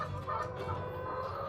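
Laying hens clucking in a coop on a house rooftop, a soft, continuous murmur of several birds close by, with no voices over it.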